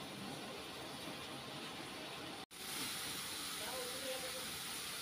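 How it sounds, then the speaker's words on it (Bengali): Spice paste frying in oil in a pan, a steady faint sizzling hiss throughout, broken by one brief gap. "এখন মশলাটা কষিয়ে নেব ভালো করে"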